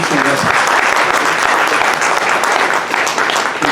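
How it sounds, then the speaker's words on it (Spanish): Audience applause at a Spanish-language event promoting blood donation, a dense, sustained clapping from a crowd that stays loud and even throughout, with a faint voice briefly under it at the start. "Demos un aplauso a nuestros profesores,"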